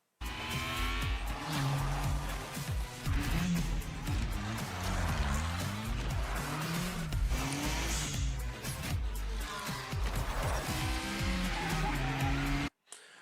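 An Indy car in The Crew Motorfest video game runs full throttle through a banked corner, its engine screaming at high revs with quick upshifts, pitch swooping up and down, tire squeal mixed in, loud and continuous until an abrupt cut.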